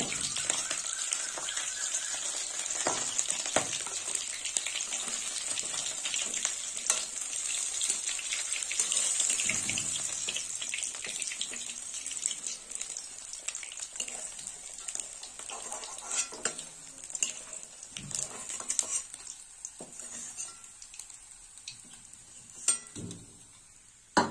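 Bhetki fish bones fry in oil, a soft continuous hiss and crackle with occasional clatters of utensils against the pan, faint and steady over the whole stretch.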